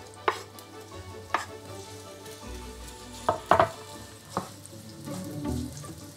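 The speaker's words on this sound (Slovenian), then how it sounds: "Na malce oljčnega olja popražimo čebulo." Chopped onion fries in a little olive oil in a pan, giving a steady soft sizzle broken by a few sharp clacks and scrapes of stirring, close by with no talk.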